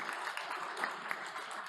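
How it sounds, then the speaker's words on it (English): Brief applause from the audience at a startup pitch event, soft and distant, a short patter of clapping. "Applause, please, for Tui."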